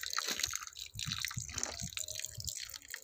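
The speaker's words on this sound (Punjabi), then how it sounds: "ਅਤੇ ਹੁਣ ਆਪਾਂ ਇਹਦੇ 'ਚ ਪਾ ਦੇਣਾ ਪਾਣੀ, ਪ੍ਰੋਪਰ ਇਹਨੂੰ ਗਿੱਲਾ ਕਰ ਲੈਣਾ ਸਾਰਾ" Water poured onto cocopeat in a pot holding guava cuttings, soaking the medium so it drains through the holes; a close, continuous splashing trickle with dripping, no talking.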